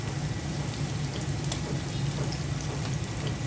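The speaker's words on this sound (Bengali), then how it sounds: "পেঁয়াজটা হালকা ভেজে নিয়েছি, এখন আদা রসুনের পেস্ট দিয়ে দিচ্ছি।" Onion frying in a pan with ginger garlic paste just added, a steady dense sizzle and crackle with no pauses and no speech.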